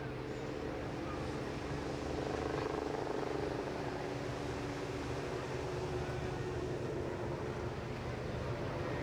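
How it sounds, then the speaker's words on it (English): A Westland Wasp helicopter's Nimbus engine gives a steady, distant roar across an airshow ground, a broad continuous rumble with no pauses. "you can hear the mighty roar of the Nimbus engine from the helicopter on the far side, Wasp"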